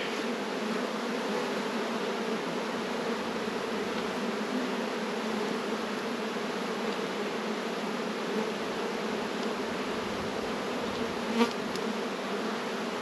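Honey bees swarming around an opened hive, a dense continuous buzzing drone that stays steady throughout, close and unbroken by talk.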